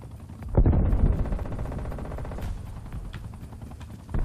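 Gunfire in the Black Ops Cold War video game: a heavy burst of automatic fire breaks out sharply, then rattles on more softly under a steady engine-like drone, with a fresh burst at the end.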